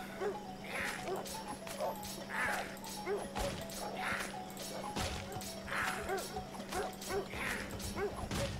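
Dogs bark repeatedly in the fantasy video game Of Orcs and Men, sharp yelps recurring roughly every second over a steady droning game background, with clattering combat crashes mixed in.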